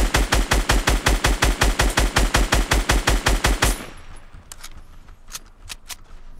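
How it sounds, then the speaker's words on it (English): Rapid automatic gunfire in Fortnite Battle Royale, a loud, evenly spaced burst of about two dozen shots, followed by quieter scattered single shots and game noise. "people is trying to shoot us"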